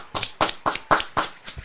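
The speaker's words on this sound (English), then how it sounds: "Give yourself a round of applause" A podcast audience gives a short round of applause, heard as about six distinct clap bursts in a steady rhythm, close and fairly loud with no talking.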